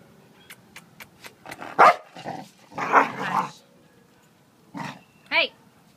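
At an animal shelter, a dog gives several barks and growly vocalizations close by, mixed with a person talking and a series of sharp clicks at the start.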